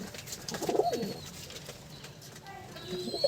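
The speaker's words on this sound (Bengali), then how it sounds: "প্রত্যেকটা পায়রা কিন্তু রেজাল্ট করা পায়রা আর পুরনো জাতের পায়রার বাচ্চা" Young pigeons of old breeds coo softly in a loft, a low murmuring call rising briefly near the start over a steady background hum of other birds.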